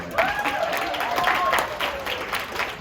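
An evening pageant audience breaks into steady, lively applause for a host's shout-out, many hands clapping continuously at close range with faint voices and cheers mixed in.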